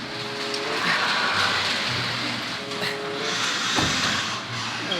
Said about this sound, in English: Oh, snap, I didn't even turn the car off